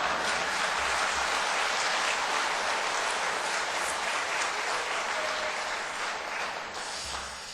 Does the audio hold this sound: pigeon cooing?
no